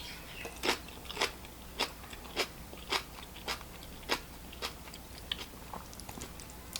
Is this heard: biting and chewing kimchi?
yes